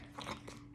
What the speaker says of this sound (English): Can you hear the dog drinking?